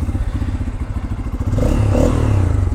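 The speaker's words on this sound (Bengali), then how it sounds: "এটার আওয়াজটাই সুন্দর। সাইলেন্সার পাইপ কি মোটা মোটা দুইটা পাইপ দেওয়া হয়েছে, ডুয়েল ব্যারেল এক্সস্ট।" A Bajaj N250 motorcycle with a dual-barrel exhaust runs close by, its engine thumping in a steady low pulse before rising into a fuller, louder rev.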